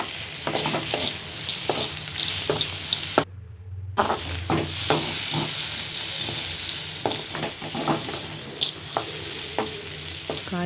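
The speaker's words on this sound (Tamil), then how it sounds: "இப்போது நம்ம வதக்கி வச்ச சுண்டைக்காயை மீண்டும் ஒரு முறை சூடு பண்ணிக்கலாம்." Sautéed turkey berries (sundakkai) are reheated in a pan with onion and tomato, giving a steady loud sizzle broken by repeated scraping strokes of a stirring spoon. A brief silent gap interrupts the frying, and no one speaks.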